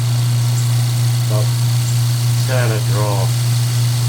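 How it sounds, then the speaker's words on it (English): A vacuum pump runs while oil is drawn from a Kayaba shock of a YZ 250 dirt bike, giving a loud, steady low hum close by, with brief speech over it. "Open the pump up, turn it on."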